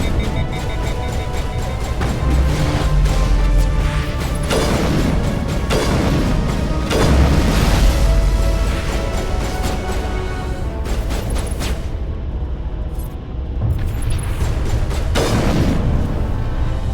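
Combat gunfire in Mass Effect Legendary Edition runs continuously, with loud booming shots and impacts over a dense, noisy game soundscape and a steady, heavy loudness throughout.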